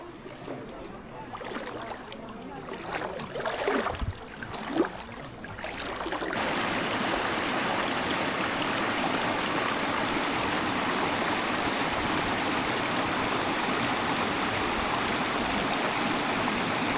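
Cold water of the Golo river in central Corsica rushes steadily, a broad even roar that swells up after a few seconds of quieter outdoor sound and then holds constant.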